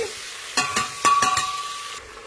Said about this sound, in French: un peu d'oignon, et on attend jusqu'à ce que ça soit doré